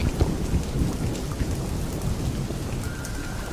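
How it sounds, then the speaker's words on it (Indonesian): Heavy night rain with thunder: a loud, dense downpour roars without a break, while low rumbles of thunder roll through it, close and powerful, with no one speaking. "Karena terjadi hujan lebat"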